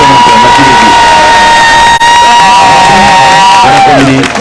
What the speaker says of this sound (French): on aimerait qu'elle se souvienne de vos applaudissements